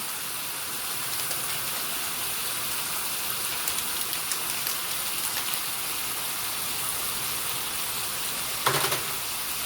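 Chicken pieces browning in a hot pan give a steady, close, dense sizzle that runs throughout, with a brief louder crackle near the end; no talking.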